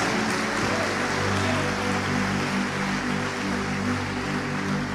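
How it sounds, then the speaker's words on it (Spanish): A church congregation applauding during a sermon, a dense, steady wash of clapping that carries on throughout over a sustained musical backing, with no speech. "Denle un aplauso al Señor Jesucristo"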